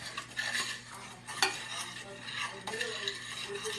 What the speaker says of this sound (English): Stir it into a paste